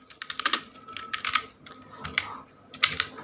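Close, crisp computer keyboard typing while an online PF withdrawal Form 15G is filled in: irregular bursts of quick key clicks separated by brief pauses.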